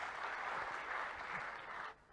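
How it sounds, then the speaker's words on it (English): An audience at the Moto G6 and Moto G6 Play launch event in India applauds, a steady wash of many hands clapping, somewhat distant and soft, that drops off abruptly near the end. "let's get a round of applause"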